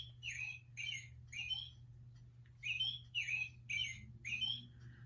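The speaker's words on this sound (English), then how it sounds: "Then we have the American Robin." American Robin song played back from a recording rather than a live bird, a series of clear warbled phrases in short repeated bursts with brief pauses between them, over a steady low hum.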